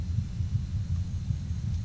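Heartbeat sound in the Spirits of Xanadu game, a soft low thumping pulse repeating steadily at a quiet level with no other sound over it.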